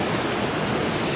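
Steady broadband rush of an Oregon waterfall just off Highway 138, a dense continuous roar of falling water, loud and close with no pauses or voices.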